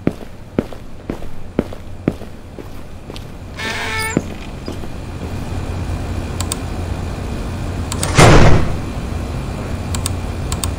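In the horror video game Entity Room, scattered footsteps and clicks lead up to a single heavy door shutting with a loud burst, followed by low ambient hum.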